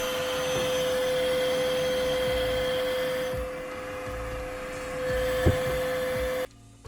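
Dust collector running inside an enclosure in a small single-car garage furniture workshop: a steady, moderately loud whirring drone with a constant tonal hum, dipping slightly midway before cutting off near the end.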